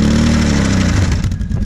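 A quad's engine roars loud and close in a sustained high-rev blare during a burnout at a quad meetup in Baggerpark Emsland, holding steady before wavering slightly near the end.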